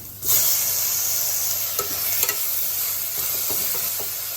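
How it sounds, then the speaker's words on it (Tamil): Onions and tomatoes sauté in a pan for green gram dal khichdi. A sizzle starts suddenly and carries on steadily, broken by light stirring scrapes, with no talking. "இப்போ வெங்காயம் நல்லா வதங்கிடுச்சு. தக்காளி ஆட் பண்ணிக்கலாம்."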